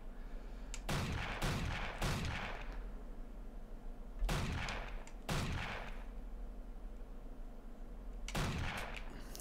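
Gunfire in a zombie shooter video game comes as three clusters of sharp, echoing shots with quiet gaps between them, fairly faint over a low steady background.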